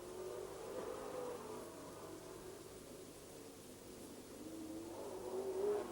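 Speedway super saloon race cars racing at Bay Park during the 1991 New Zealand championships, heard as a distant, steady roar of engines that rises and falls and swells near the end.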